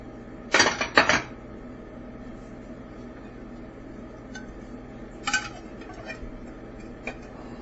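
Plates and dishes clatter in a home kitchen while a pot pie is served: two sharp clinks close together near the start, a softer rattle later and a final light tap, with quiet room noise in between.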